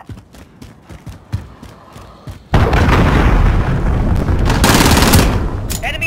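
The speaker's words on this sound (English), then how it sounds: "Allied cruise missile away" A cruise missile strike in the Call of Duty: Modern Warfare video game erupts as a sudden loud, sustained roar of explosions and blasts, following a few seconds of sparse gunfire shots, and stays dense and heavy to the end.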